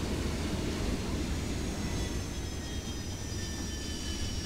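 A Harrier GR.3 jet in War Thunder lands after its throttle is cut, producing a loud, continuous broadband engine roar and rumble with faint high whining tones, steady throughout with no talk.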